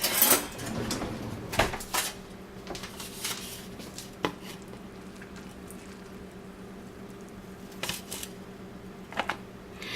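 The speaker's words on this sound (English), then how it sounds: "I'm going to just get a spoon to scoop out those seeds" A spoon scrapes and scoops the seeds from a cooked spaghetti squash, giving scattered soft scraping and tapping sounds with a few sharper knocks over a low steady kitchen hum.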